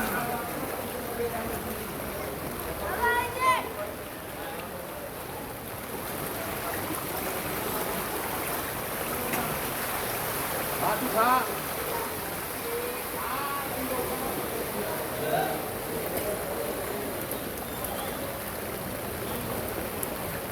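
Steady hiss of falling water, like rain or runoff, fills a street in Rampura, Dhaka, a constant wash under occasional voices.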